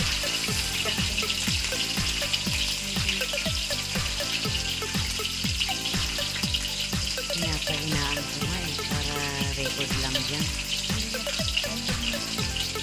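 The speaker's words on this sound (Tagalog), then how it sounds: "Haluin natin yung chicken na ginigisa natin" Chicken sautéing in a pan for a Filipino chicken afritada, with steady sizzling and frying hiss throughout and rhythmic clinks of a utensil stirring against the pan, close and continuous.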